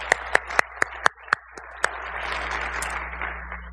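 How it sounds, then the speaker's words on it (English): Audience applause at a political speaking event, opening with several sharp, separated claps that quickly swell into a dense, sustained round of clapping from a crowd at moderate distance. "Let's give them a round of applause for that."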